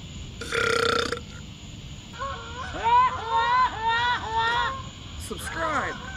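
Several long, croaky burps from a man drinking beer outdoors on a dock by a river, coming in a bubbling string after a short noisy burst, with faint background chatter.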